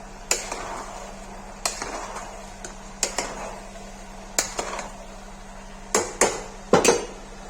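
A spoon stirs turmeric and red chilli in a cooking pot for Kashmiri aloo matar curry, giving a series of close, sharp metallic scrapes and clinks at irregular intervals over a low steady hum.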